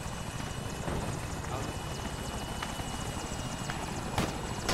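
A helicopter's rotor and engine run steadily nearby during a combat scene with gunfire, giving a continuous, fairly faint whirring drone with a few sharp clicks or shots cutting through.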